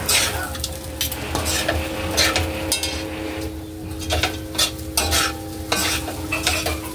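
Garlic rice with chorizo is stirred in a hot pan, a steady sizzle under repeated scraping and clinking of a spatula against metal, close and fairly loud throughout with no talking.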